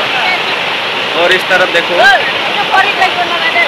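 Floodwater rushes fast through a flooded village in a loud, steady roar and churn close by, with people talking over it.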